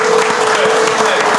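A studio audience at a talk show cheers and applauds loudly in a dense, continuous burst, close and filling the room for a second and a half.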